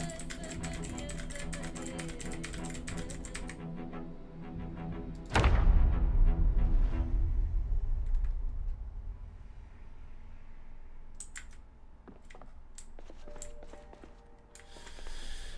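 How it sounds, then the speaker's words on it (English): Rapid clicking of a computer keyboard during typing, close and fairly quiet, with a sharp loud thump partway through and scattered taps afterward. "I just don't want that clickety clack on my keyboard"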